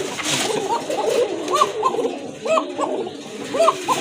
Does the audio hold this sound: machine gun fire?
no